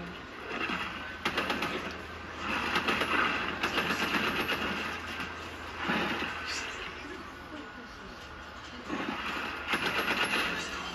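Bursts of automatic gunfire in the video game Fortnite rattle repeatedly at a steady loudness over a continuous backdrop, with people talking throughout.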